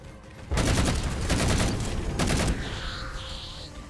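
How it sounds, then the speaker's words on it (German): Rapid bursts of gunfire from the video game Halo 4 crackle in two dense volleys, loud and close, followed by a fainter electronic tone. "Wir schießen hier also einfach Wissenschaftler."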